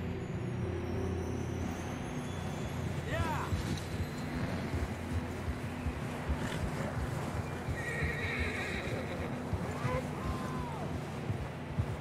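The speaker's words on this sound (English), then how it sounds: "I don't think we can go much further on the horses." Horse whinnies break out twice over a constant bed of rumbling noise and trotting hooves, with faint voices in the background, in the video game Red Dead Redemption 2.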